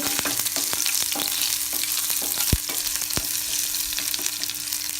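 Crushed garlic, cumin and mustard seeds frying in oil for a dal kulambu, a loud continuous crackling sizzle with sharp pops and spits scattered throughout, close up and without any voice.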